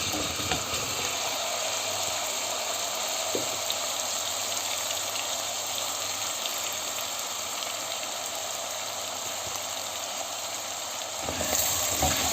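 Shallots sizzling steadily in a hot pan as the base for a chickpea stew, a continuous close frying hiss with a brief scrape near the end.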